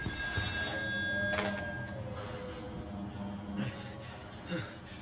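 In the horror video game Still Wakes the Deep, a telephone bell rings aboard an oil rig, a bright metallic ring heard once or twice over a steady low mechanical drone, with faint clinks and a breath nearby.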